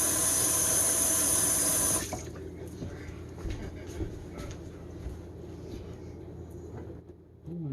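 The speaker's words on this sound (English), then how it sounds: "let me rinse my hands off" A kitchen tap runs water over hands being rinsed, loud and steady at first and then shutting off after about two seconds, leaving quieter room noise with faint movement.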